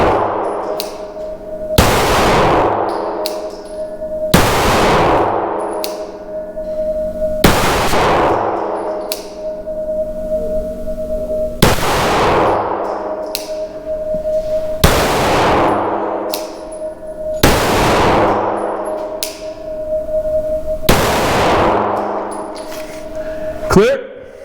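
Shots from a Shadow Systems MR920 pistol fed from a Glock OEM magazine, fired at steel targets 21 feet away: seven loud sharp reports roughly every three seconds, each with a ringing metallic clang that lingers, with talk in between.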